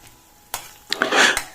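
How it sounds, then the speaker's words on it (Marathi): Finely chopped large onion sautéing in a pan until soft and pink for Malvani sweet matki usal: a couple of sharp spoon knocks, then a brief close burst of sizzling and stirring, no voices. "एक बारीक चिरलेलो मोठो कांदो घालायचो आणि तो मग नरम होईपर्यंत गुलाबी रंगावर परतून घ्यायचो"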